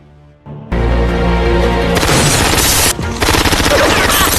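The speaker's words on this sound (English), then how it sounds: "he was suddenly attacked by Dragon with consecutive shots" Consecutive gunshots in a film shootout between mobsters, a loud burst of rapid automatic fire erupting after a brief quiet start, dense and continuous with a short dip partway, no speech.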